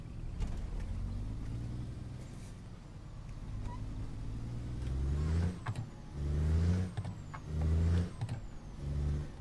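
A Kenworth heavy haul truck engine in a video game idles low, then revs up in several rising surges, with a pair of quick revs near the end.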